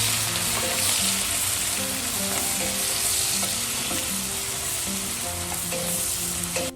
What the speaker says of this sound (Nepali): यो हिट भइसकेपछि अब यसमा अनियन हाल्छु।